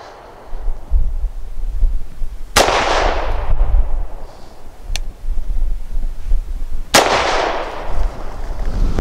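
Two sharp, loud gunshots from a Tisas Zigana F pistol firing a high recoil load, spaced several seconds apart outdoors over steady wind noise.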